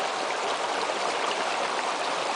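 A river current flows steadily nearby, a dense, even rushing and hissing of water without pause, with no voices.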